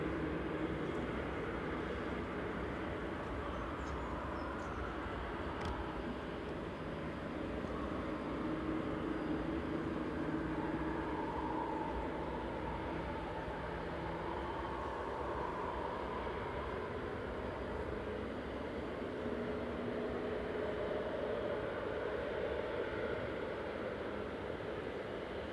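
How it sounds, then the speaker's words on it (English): An Aer Lingus propeller aircraft taxis out at Manchester Airport, giving a faint, continuous broadband drone with a low rumble that stays steady and fairly distant. "Noisy prop taxiing out for Aer Lingus"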